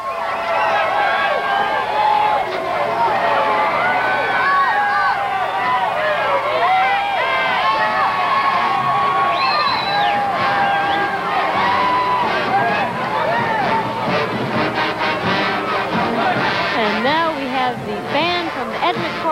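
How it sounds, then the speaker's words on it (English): A large crowd cheers and shouts at the 1996 Bacchus Mardi Gras parade in New Orleans, a dense, continuous roar with many overlapping voices and whoops. "And the crowd loves it."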